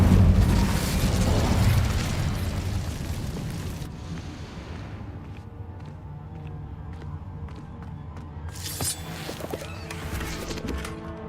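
A roaring burst of fire from an Incendio spell in Hogwarts Legacy, loud and dense at first, fading into quieter ambience before another flare near the end.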